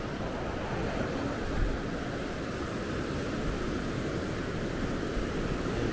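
Waves break continuously on Canh Duong beach in Thua Thien Hue, Vietnam. The surf makes a steady, loud, broadband wash with no distinct individual breakers and no voices.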